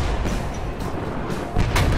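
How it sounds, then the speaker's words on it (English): Several heavy explosions from an airstrike in the C&C Renegade X video game, rumbling and booming close and loud over a dense, continuous battle din, with a stronger blast near the end. "Airstrike en route."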